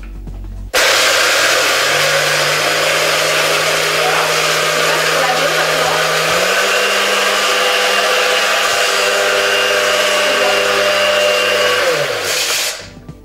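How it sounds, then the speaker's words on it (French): A two-speed blender whirs through a pina colada, starting abruptly, running loud and steady, then stepping up in pitch as it shifts to the second speed before winding down and stopping near the end. "Sur ce blender là, il y a 2 vitesses."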